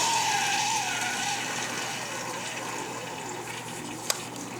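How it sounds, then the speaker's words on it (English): Aquarium siphon running in a reef tank, giving a steady rushing, gurgling water flow that stays constant throughout, with one sharp click near the end. "So you can hear my siphon"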